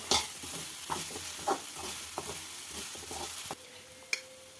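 A mushroom stir-fry seasoned with rock salt is stirred in a pan, quiet sizzling under a series of soft scrapes and taps of the spoon, close but faint, ending with a lighter clink.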